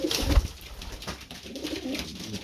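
Several pigeons coo softly and continuously nearby, their low throaty calls overlapping with light rustling.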